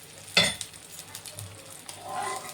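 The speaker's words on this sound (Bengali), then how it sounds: "একটু কড়া করে ভেজে নিলাম।" Hilsa fish fried crisp in hot oil sizzles steadily and quietly at close range, with a sharp utensil clatter near the start and a brief swell of sizzling toward the end.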